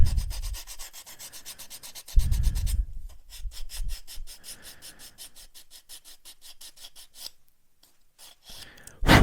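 Rapid back-and-forth sanding strokes on a plastic model part rasp close up in quick rhythmic bursts, slowing and fading before a final scrape at the end.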